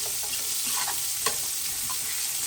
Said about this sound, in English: To that I'll add in my onion and my curry leaf. And now you want to fry this.